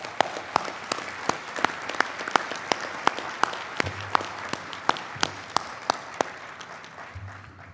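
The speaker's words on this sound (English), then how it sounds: "give them a round of applause" Sustained audience applause fills a room at an AHA association convention, honoring volunteers who stand to be recognized. It is dense, steady clapping with a few sharper individual claps, and there is no talk over it.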